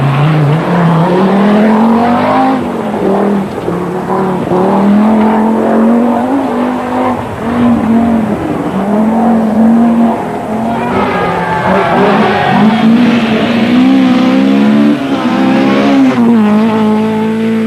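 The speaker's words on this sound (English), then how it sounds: "the four-wheel drive turbocharged Audi Quattro. Undoubtedly the most technically advanced rally car ever to ride the forest roads" Turbocharged four-wheel-drive Audi Quattro rally car racing on forest roads, its engine note loud and continuous with rising and falling revs throughout, plus scrabbling tire noise, with no voices over it.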